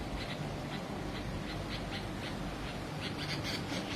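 Outdoors, a bulbul perched with another bird on bamboo gives repeated short harsh squawks, fairly faint and spaced out, over constant wind rumble.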